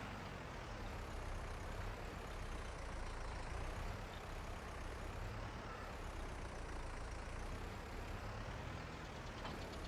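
A truck engine idles in the farming game Farming Simulator 22, a steady, continuous low rumble with constant loudness throughout and no voices.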